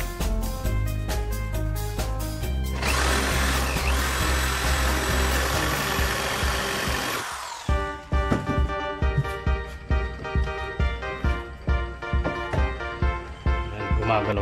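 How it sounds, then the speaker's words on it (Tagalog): A power drill with a concealed hinge drill bit bores a hinge cup hole, giving a loud, steady whirring grind for about five seconds, then stopping and giving way to scattered knocks and clatter. "Center point natin, yung dulo ng ating hinge drill bit"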